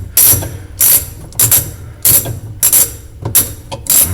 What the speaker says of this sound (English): I'm just gonna keep on screwing, keep on screwing.